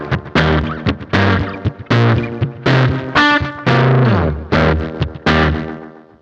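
Electric guitar through a Boss Katana amp with the delay effect's blend turned up plays a run of distorted, chorused notes in a steady rhythm, each note trailing into loud repeats, alone with no talking.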